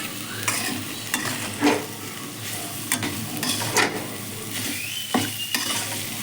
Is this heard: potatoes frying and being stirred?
yes